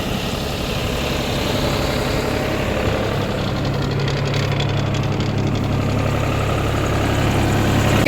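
A 175 hp farm tractor engine runs at a steady, rough idle with a low rumble and knock throughout, fairly close, and no voices.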